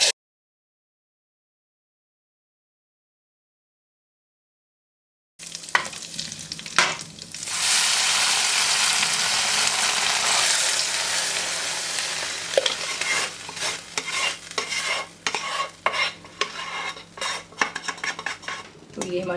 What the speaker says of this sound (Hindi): अब इसे हम डालते हैं दाल में।